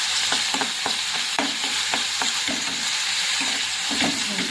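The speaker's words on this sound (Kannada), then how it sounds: "ಈ ರೀತಿ ಫ್ರೈ ಮಾಡ್ಕೊಳ್ಳೋಣ." Brain masala with green chilies fries in a pan, giving a loud close sizzle with repeated spatula scrapes and taps in an uneven rhythm, and no voices.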